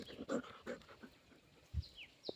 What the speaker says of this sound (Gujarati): મસ્ત સફેદ કૂતરો આપણે અહીંયા શેરીમાં નજર રાખે છે